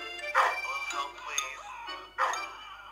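A big dog in Dog Simulator barks in a few loud, close bursts with a brief gap between them.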